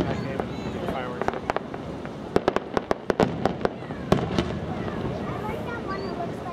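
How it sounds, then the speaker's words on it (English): Fireworks burst at a fireworks festival in a run of sharp cracks and pops, clustered irregularly over a steady outdoor crowd murmur, with people talking nearby. "The fireworks."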